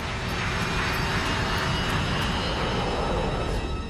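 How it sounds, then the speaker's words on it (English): Jet airliner engines roar steadily and loudly as the plane accelerates down the runway on its takeoff roll, a dense continuous whine and rumble with no voices. "When a flight crew is in departure mode, dancing the throttles, speed is increasing."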